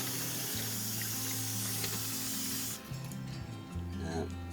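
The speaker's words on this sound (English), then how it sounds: "the band's been through 2 cycles with soapy water, so I'm just rinsing them off now" Water sprays and hisses steadily from a tap, then the stream is interrupted and splashes unevenly as a Casio Data Bank watch band is rinsed under it.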